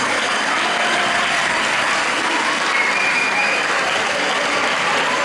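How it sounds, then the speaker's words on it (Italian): An audience applauds at a sports club season presentation, dense and steady clapping that holds at an even, loud level throughout with no pause. "un applauso."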